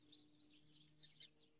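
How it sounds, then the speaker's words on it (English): Birds chirp in a backyard garden in December, with faint, scattered high tweets and short calls over a low, quiet background hum. "the birds are back to making a lot of noise"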